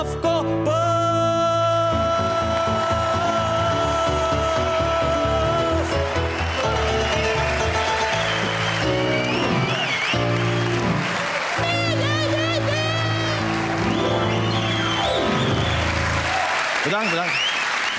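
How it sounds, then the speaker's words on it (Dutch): Loud, sustained applause from a comedy show audience welcoming a stand-up comedian onto the stage, with music playing underneath throughout. "geef hem een daverend applaus"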